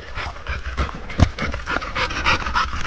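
Dogs pant rapidly and close by while exploring an old cellar, with steady breathy huffing and a brief thump partway through.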